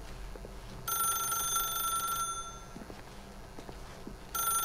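A telephone rings in the video game The Stanley Parable: a bright, electronic trilling ring sounds in a long burst, pauses, then starts again at the end over a low room hum.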